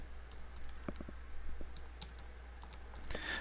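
Quiet clicks of computer keys as a short storage bucket name is typed, a few uneven bursts of keystrokes over a low steady hum.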